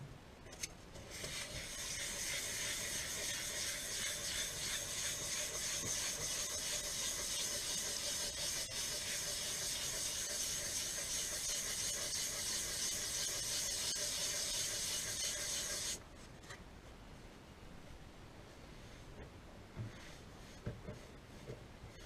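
Sanding on a ZZR1400 motorcycle lower fairing under repair, a steady close rasping hiss that runs continuously for about fifteen seconds and then drops off to quieter, scattered rubbing.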